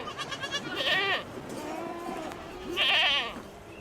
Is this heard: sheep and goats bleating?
yes